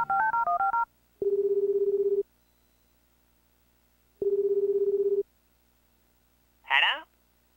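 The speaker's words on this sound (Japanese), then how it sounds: "クリス君に電話しよう。" Phone dialing in the video game Tokimeki Memorial Girl's Side 2nd Kiss: a quick sequence of stepped electronic dial tones, then two long steady ringback tones with a pause between, ending with a short bright chime.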